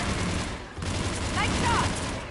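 Gunfire from a firefight in Mass Effect 3, a few sharp shots breaking through dense battle noise and sound effects, with a voice speaking briefly over the action.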